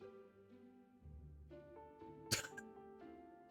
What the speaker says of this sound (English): coughs a little bit